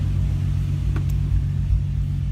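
A 2005-2009 Ford Mustang engine idling after warm-up, a steady, close, low rumble with an even rhythmic throb and no revving.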